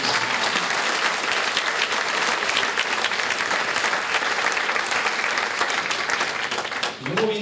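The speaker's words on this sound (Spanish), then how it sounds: "denle un fuerte aplauso" Strong, dense applause from a church congregation, loud and continuous for several seconds before tapering off abruptly at the end.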